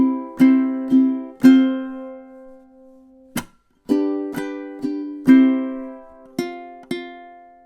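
Ukulele playing measures 10 and 11 of a song, close and clear, a series of bright strummed chords with clean gaps and ringing decays, alone with no talk.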